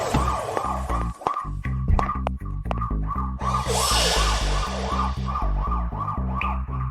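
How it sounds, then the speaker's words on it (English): A loud, close ambulance siren wails in a steady repeating rising-and-falling pattern, with a low engine rumble underneath. "The ambulance is here."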